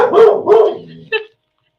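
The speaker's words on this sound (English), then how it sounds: "my dog is even, Ty is even saying yes" A dog gives two loud, close barks in a row, then a short sharp yelp, with a quiet tail afterward and no talking.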